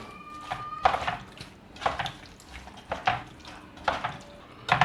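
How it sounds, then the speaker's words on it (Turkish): Spice mix of salt and ground pepper stirred in a tray before frying catfish, giving repeated short scraping, clinking strokes in an irregular rhythm, close and fairly quiet. "Şimdi bu bu şekilde karıştıracağız baharatımızı."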